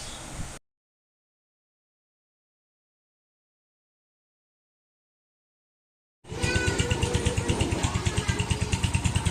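A repaired Suzuki Raider/Sniper MX 135 motorcycle engine idles up close with a steady, even pulsing putter after a short burst of sound and several seconds of silence.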